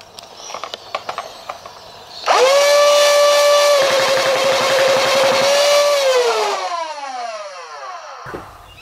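A Nerf Rapidstrike blaster with Extreme Pro 180 motors spins up after a few faint clicks, holding a loud, steady high-pitched whine for several seconds with rapid rattling, then winding down in a falling tone before a final click.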